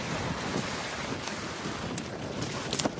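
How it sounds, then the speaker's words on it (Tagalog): Strong wind gusts at the water's edge during a fishing outing, roaring and buffeting the microphone continuously with a rough, rumbling hiss and occasional sharper bursts. "Sobrang lakas ng agos, ang hangin."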